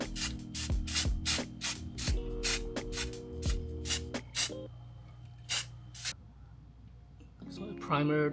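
An aerosol can sprays primer and flat black paint onto cam gussets for a Lexus GX460, in about a dozen short hissing bursts with brief pauses, then a stretch of quiet before a final burst.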